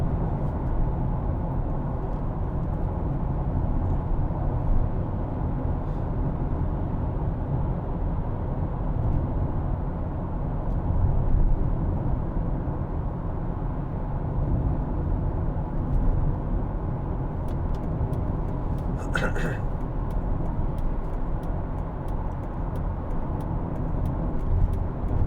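A 2005 Mercedes-Benz SLK200 Kompressor 1.8 two-door on the move, giving a steady engine and road rumble with a brief brighter sound near the end.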